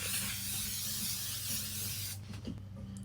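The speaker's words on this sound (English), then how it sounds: "36-hour setting spray, and she warned us that it like sprays like and smells like hairspray." A 36-hour makeup setting spray, said to spray and smell like hairspray, lets out a steady close hiss for about two seconds, then cuts off, leaving quiet room noise.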